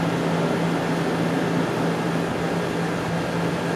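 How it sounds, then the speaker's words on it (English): Outdoor air conditioning unit on a sidewalk in Fort Worth, Texas, giving a loud, constant mechanical drone with a steady low hum that fills the whole stretch without a break. "I might have to get away from this air conditioner."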